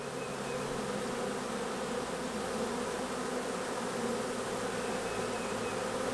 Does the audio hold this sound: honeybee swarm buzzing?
yes